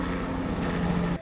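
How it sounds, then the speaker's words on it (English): A helicopter flies overhead as a steady, droning engine and rotor hum with a low tonal whine, continuous and moderately loud through the brief moment. "Oh, it's a helicopter now. Those are louder."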